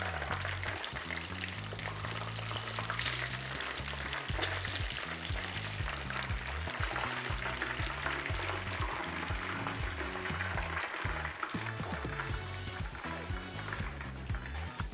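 Chicken cutlets fry in oil, a steady crackling sizzle running close and constant, with low rumbling and faint background voices underneath.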